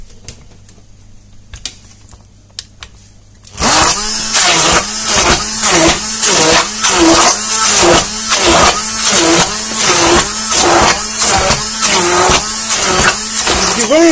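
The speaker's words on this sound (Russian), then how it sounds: "И все это взбиваем блендером." After a few quiet seconds, a loud blender starts and runs steadily, pulsing in rapid rhythmic surges as the blades churn lemon juice and zest.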